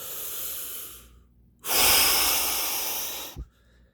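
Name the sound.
forceful breath exhale like pushing out a final rep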